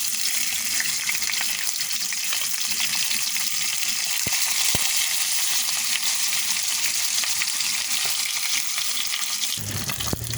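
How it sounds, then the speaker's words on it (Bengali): Turmeric-marinated fish fries in hot oil, a steady, even sizzle running continuously at moderate loudness, with a couple of brief clicks of a utensil turning the pieces. "এবার এটা উল্টে পাল্টে ভেজে নেব আমরা"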